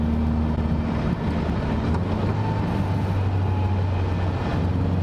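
A Caterham Seven Roadsport 125 with a Sigma engine drones steadily while driving, a constant close mechanical hum with road and wind noise under it.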